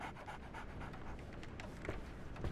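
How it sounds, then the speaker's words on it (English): A dog in the Sherlock Holmes The Awakened game pants in quick, steady rhythmic breaths throughout, fairly close and moderately loud, with no talking over it. "I hear a doggo."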